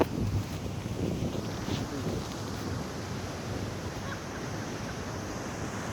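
Rough sea surf at Mandaikadu beach in Kanyakumari district rumbles continuously with wind buffeting the microphone, a steady low roar of breaking waves.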